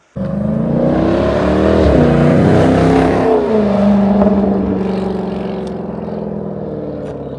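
A 2018 Jeep Grand Cherokee SRT with its 6.4-litre HEMI V8 on the stock exhaust, a loud, steady, deep engine rumble that swells as it revs up, then settles into a sustained throaty drone.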